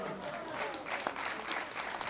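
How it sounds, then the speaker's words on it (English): A comedy club audience gives continuous applause as a comedian comes on. The dense, even clapping sounds somewhat distant and soft, with a few sharper claps standing out. "Please keep your applause going for a very funny man"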